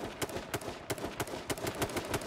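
Rapid bursts of gunfire in the battle-royale game H1Z1 during a five-player team match, sharp repeated shots crackling in an irregular rhythm, close and loud, with no talk.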